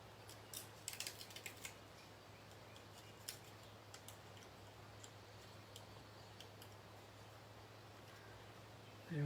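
Scissors snip through paper strips at a crafting table for card making, giving a quick cluster of faint, close crisp cuts early on, then scattered soft ticks over a steady low hum.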